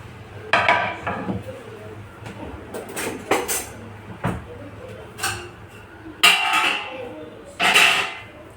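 Pots and a rolling pin are pulled out and set down in a home kitchen, making a string of clanks, knocks and scrapes of varying loudness with a few louder bursts near the end and no one speaking.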